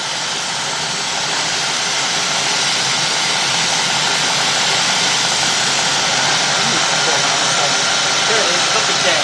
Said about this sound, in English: And look at the engine. Watch out. See how it's running rough right now?